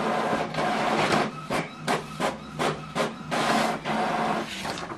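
An Epson WF3820DWF inkjet printer runs off a usage history sheet, giving repeated mechanical clacks and whirring head passes in an uneven rhythm, loud and close, with no talking.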